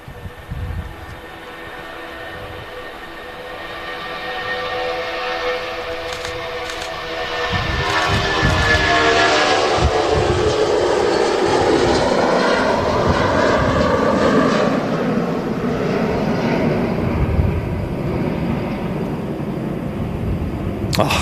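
Jet2 airliner about 34 years old, one of the oldest in the fleet, roaring on its takeoff roll at Manchester Airport; a broad, steady engine rumble swells louder partway through and holds with a rising whine.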